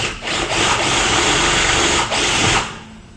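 A drill bit bores a drainage hole through PVC with a steady, loud grinding whir that holds for about two and a half seconds, dipping briefly once before it stops.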